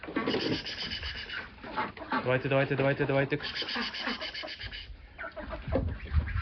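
Roosters and other poultry on a small backyard farm with rabbits, chickens and ducks, sending out bird calls mixed with clucking while a man keeps urging them along in the foreground.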